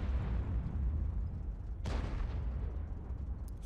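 World of Tanks artillery gun, a T92 HMC self-propelled howitzer, firing with a sharp boom partway through over a constant low rumble of engine and battlefield noise.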